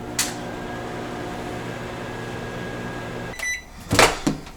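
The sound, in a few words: microwave oven running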